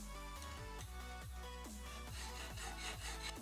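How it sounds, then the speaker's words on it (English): A hand saw cuts a copper tube in half, producing quick rhythmic back-and-forth rasping strokes, close and fairly quiet, with no voices. "So with the tubes I had to cut them in half to make them into plates."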